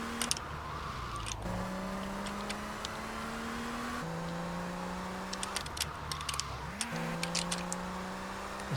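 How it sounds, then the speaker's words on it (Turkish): Bus engine in the video game GTA Vice City, a steady mid-pitched drone that shifts pitch as it revs and changes gear, heard up close and continuous with a few short clicks and no talking. "Otobüs sesi geldi mi? Duydunuz mu?"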